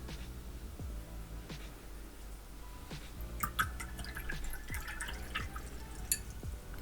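Water drips steadily, one drop about every second, while paints are moistened during a portrait painting session, with faint tapping and handling sounds alongside.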